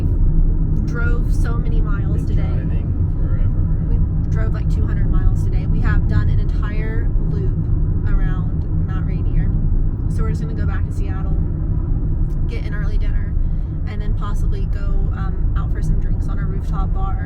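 Steady low road rumble from inside a car driving on the highway back into Seattle, loud and continuous throughout, with people talking over it much of the time.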